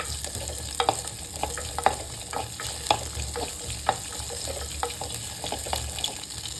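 Shallots sautéing in a pan for a traditional raw-mango koozh, with repeated sharp spatula scrapes and taps over a steady low sizzle. No one speaks.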